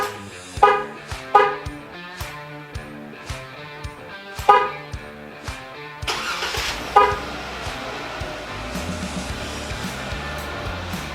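A Jeep Wrangler (2007–2018) remote start fires up: a series of short horn chirps and clicks, then the engine cranks and catches into a steady idle, close by with no talking.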